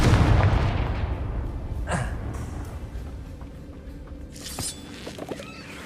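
Confringo fire spell in Hogwarts Legacy hits with a heavy booming blast that rumbles and fades, followed by smaller crackling impacts and debris, loud and close with no talk.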